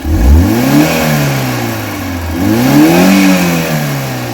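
A Maruti Eeco engine running on gas after a spark plug change revs up twice, each rise and fall in pitch clear and close, with no talking over it.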